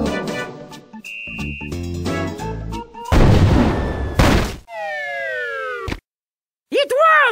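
A circus cannon firing a person in The Secret of Monkey Island, a loud booming blast with a noisy burst among chiptune-style music and game sound effects, followed by rising whistling tones.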